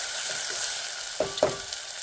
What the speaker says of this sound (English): Add all the whole spice, bay leaf, cardamom, cinnamon stick, star anise, garlic clove, fenugreek, and a medium-sized onion.